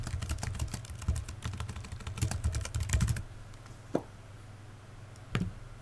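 Fingers type rapidly on a computer keyboard with close, dense clicks for about three seconds, then stop, leaving a quiet hum broken by two isolated key taps.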